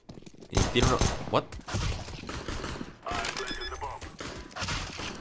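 Gunfire in CS:GO, including revolver shots, bursts of sharp shots and rapid volleys in close succession, loud and mixed with game noise, with a voice talking over it.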